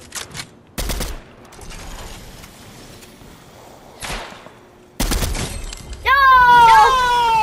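Gunshots in a Fortnite trios match come as a few loud, sharp cracks separated by quieter gaps, with a voice speaking between them and a ringing, whistling tone near the end.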